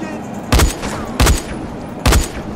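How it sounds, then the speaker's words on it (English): Three loud, sharp gunshots from a firearm in the zombie game Dying Light, evenly spaced about three-quarters of a second apart. Each blast is broadband and punchy, standing out above a low background of game ambience. "I'm shooting at you, bro"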